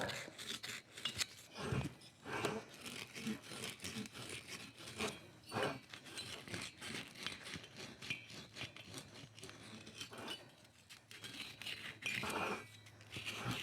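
Emery cloth rubbed by hand around the sharp port edge of a 1965 Aermacchi motorcycle cylinder head, a continuous close rasping scrape with uneven strokes and brief pauses, no talking.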